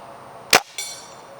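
A Crosman M1 BB rifle fires a single sharp, loud crack, followed a moment later by a fainter metallic impact that rings briefly before fading.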